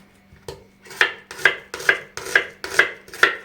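A knife chops onion for homemade ketchup in a steady series of about seven crisp, close cuts roughly half a second apart, each a sharp tap on the board, with no talking.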